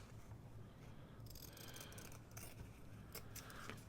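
Scissors snipping small pieces off scrap fabric, several quiet crisp cuts in quick succession over faint background noise.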